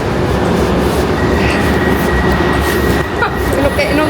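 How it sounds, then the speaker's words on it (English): A train rumbles loudly and steadily at a station in Uxbridge, with a constant low roar, faint high whine and light rail clatter filling the moment. "No, get on the train."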